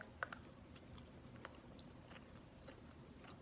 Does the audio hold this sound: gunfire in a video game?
no